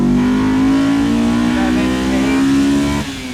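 Honda S2000 engine revving toward 9,000 rpm while driving, a loud close wail climbing steadily in pitch before dropping off sharply near the end.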